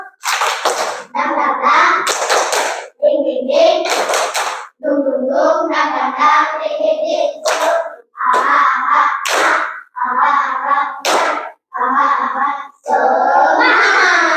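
Classroom group of children doing a rhythmic clapping chant, claps in quick patterned bursts mixed with loud chanted voices, repeated in several rounds with brief pauses between.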